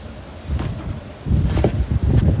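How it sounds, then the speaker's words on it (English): Gusty wind buffeting the microphone, a low rumbling rush that grows stronger partway through. "Goodness me, she's a bit windy."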